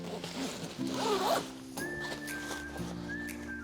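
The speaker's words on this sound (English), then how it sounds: "zip it up." Zipper closing the cover of an Epona Co. Zen Chair bean bag after filling, a quiet room with rustling fabric followed by a long, smooth zip pulled close by in two strokes.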